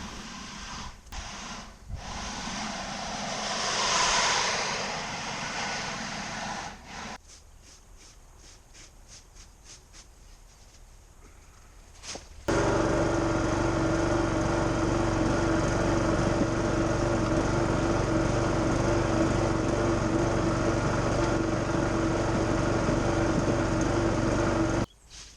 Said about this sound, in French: j'ai juste à me déplacer avec le souffleur de feuilles dans la main.